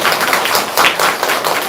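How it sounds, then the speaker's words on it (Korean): A church congregation gives a visiting pastor loud, close, continuous applause, a dense wall of clapping throughout the brief moment. "다시 한번 큰 박수를 부탁드립니다."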